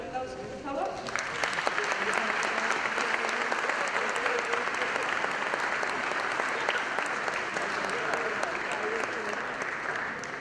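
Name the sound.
audience applause for conference speaker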